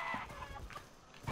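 Chickens cluck in the video game Atlas, a few short clucks up close with quiet gaps between them, and no voices.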